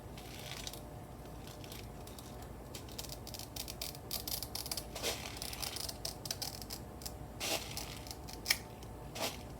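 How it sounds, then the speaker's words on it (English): Scissors snip through a thin acetate sheet being trimmed to fit a frame, a run of close, crisp cuts with small crackles and rustles, loudest bursts clustered toward the end, no voices. "I gotta trim the acetate to match the frame"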